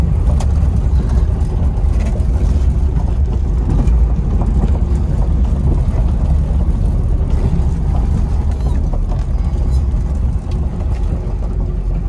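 A 1990 Trabant 601 with a 600cc two-stroke two-cylinder engine runs steadily and loudly up close, a continuous low rumble that holds throughout with no talk.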